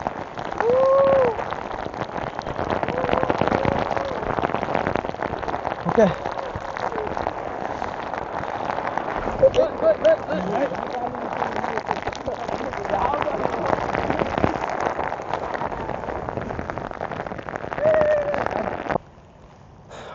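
Heavy rain at Mandalpatti Peak in Coorg pours steadily onto surfaces nearby, a dense continuous hiss with scattered louder drops, while a person briefly speaks over it before it cuts off near the end.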